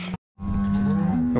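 Cattle on a Montana ranch let out a loud, close, drawn-out low moo after a brief gap of silence, the bellow holding steady and rising slightly in pitch near the end.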